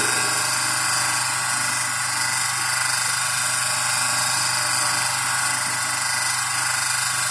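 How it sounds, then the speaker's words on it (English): A single-phase induction motor runs unloaded on a test bench, giving a steady, loud, continuous whine and hum with no change in pitch from start to finish. "Speed when motor is not loaded."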